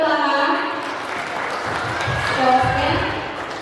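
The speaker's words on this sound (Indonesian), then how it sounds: "kita berikan tepuk tangan." Audience applause at a youth Sunday school quiz competition in a church hall, a moderate wash of clapping under a faint background voice and hum, swelling slightly near the end.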